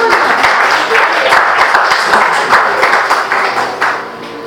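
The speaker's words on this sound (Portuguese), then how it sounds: "Você pode aplaudir ao Senhor" Loud, dense applause from a church congregation during a Portuguese-language sermon, continuous sustained clapping close by with a slight fade near the end.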